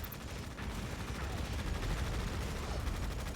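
Riflemen in Tom Clancy's EndWar open fire, a dense continuous crackle of overlapping rifle and machine-gun shots filling the whole stretch at moderate level, like a sustained fusillade in battle.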